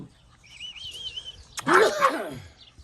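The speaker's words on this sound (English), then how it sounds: "Oh, he sneezed." A puppy gives a single short, sharp sneeze near the microphone, preceded by a thin whistling whine, with faint voices in the background.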